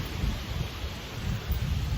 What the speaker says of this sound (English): It's getting quite stormy here.